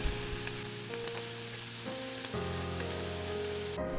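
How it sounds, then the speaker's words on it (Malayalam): Prawns fry in a pan with a steady, close sizzle and hiss that shifts partway through and ends with a brief click. "ഇതൊന്ന് ഫ്രൈ ആയാൽ നമുക്കിത് കോരിയെടുക്കാം"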